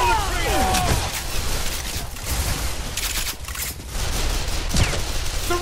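Gunfire from the first-person shooter Bulletstorm, a loud dense fusillade of shots layered with other game effects and music, filling the whole stretch with brief lulls between bursts.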